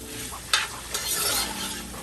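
Vegetables being stirred in a cooking pot, with a soft sizzle and a couple of scraping strokes from a spoon, close and without talk.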